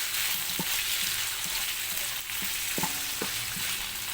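Steady, dense sizzling of food frying in a pan for carbonara, continuous and close, with occasional small pops and clinks of a utensil.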